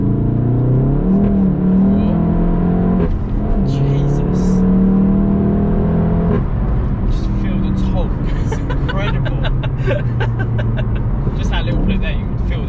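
Golf GTI Clubsport S rated at 370 bhp accelerating hard up a road toward a roundabout; the engine note climbs steadily, drops briefly at two gear changes, then pulls again, loud and close throughout.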